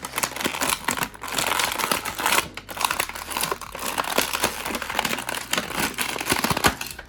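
A McFarlane Toys Batman: White Knight action figure is worked out of its plastic packaging, with loud, continuous crinkling and crackling of plastic close by.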